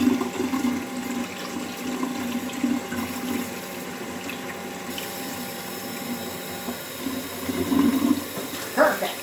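A kitchen tap runs warm water for pizza dough, a steady rushing flow that swells louder near the end, heard alone without speech.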